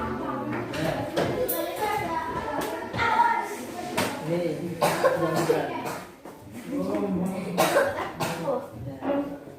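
A child coughs several times in a primary-school classroom, short bursts scattered among nearby talking voices and room chatter.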